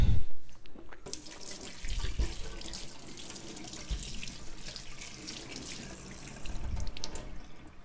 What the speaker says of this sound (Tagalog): Kailangan po nating hugasan ang pipino